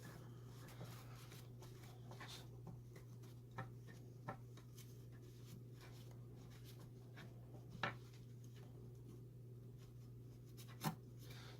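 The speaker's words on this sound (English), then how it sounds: "So I'm going to wipe this down with a paper towel first" A paper towel rubs and wipes across a PC water-cooling part during cleanup, a faint, soft scrubbing with a few light taps over a steady low hum.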